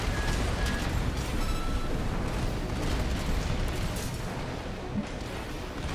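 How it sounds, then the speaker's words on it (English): Missile and bomb explosions in Armored Core 6 PvP combat, forming a dense, continuous roar of blasts and bursts that stays loud and unbroken throughout. "There's your break from the missile and the bombs."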